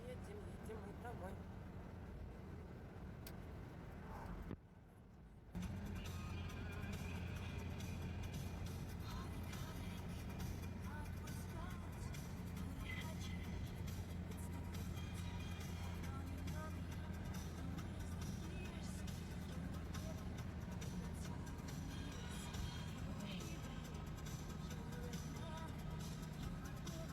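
A car driving home along roads near Korsakov on Sakhalin, heard from inside as a steady low road and engine hum with faint muffled voices and a brief dip in the noise early on.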